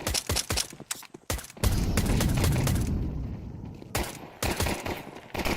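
Rapid pistol fire from Glocks in a Counter-Strike 2 ESL Pro League match, many sharp overlapping shots in quick bursts with a loud rumbling stretch between them, close and dense.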